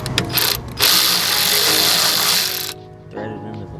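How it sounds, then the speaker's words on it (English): A wrench ratchets rapidly while unbolting a nut, a loud buzzing click run lasting a couple of seconds between brief bursts, ending in a few quieter clicks and handling noises. "Might have to unbolt it."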